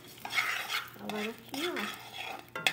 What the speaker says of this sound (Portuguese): Vou colocar um pouquinho de óleo na panela para fritar essa sementinha